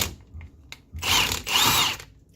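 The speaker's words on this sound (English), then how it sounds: "we're gonna take the impact and use the" An impact wrench works on a control arm bolt of a BMW Z3, two loud close bursts of rattling power-tool whirring separated by a brief pause, with small clicks before.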